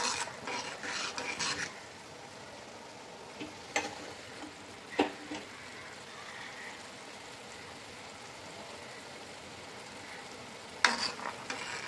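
Rasgulla dumplings boiling in a pot give a faint, steady bubbling hiss, broken now and then by a few sharp clinks of a utensil against the metal.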